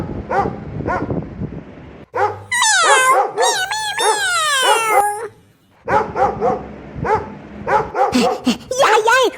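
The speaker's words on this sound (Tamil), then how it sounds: "அங்க என்ன நாய் கூட சண்டை போட்டுட்டு இருக்கா?" A small dog barks and yips in quick bursts, close by, mixed with people talking loudly over and between the barks.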